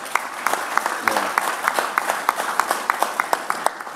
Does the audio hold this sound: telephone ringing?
no